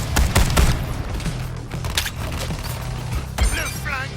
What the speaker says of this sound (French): Et voici venir le gros rayon tueur.